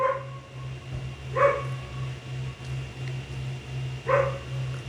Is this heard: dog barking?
yes